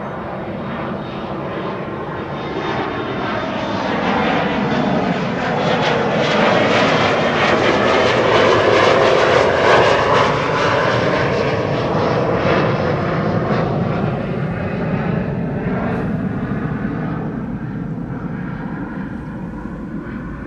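Embraer 175 airliner climbing after departure from Schiphol runway 24, a loud jet engine roar that builds, peaks around the middle as it passes and slowly fades, heard alone.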